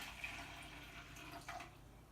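Boiling water pouring from a measuring cup into a mason jar while making Jello shots: a steady, close, soft splashing trickle of liquid that runs throughout without pause.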